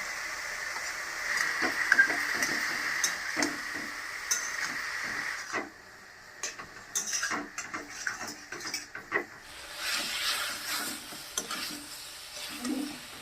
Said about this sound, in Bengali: সবজিটা আমার কষানো হয়ে গেছে